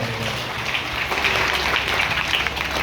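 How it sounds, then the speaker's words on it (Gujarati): Audience applause at an Ahir community Saraswati honour ceremony in Khadir, sustained broadband clapping from a crowd filling the moment at steady loudness throughout. "એના સાસુ સસરાને પણ તાળીઓના ગગડાટથી વધાવો છે"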